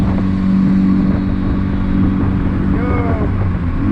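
A turbocharged D16-engined Suzuki Vitara accelerates hard toward boost cut with a loud, sustained engine drone heard from inside the vehicle. Its pitch rises gradually toward the end.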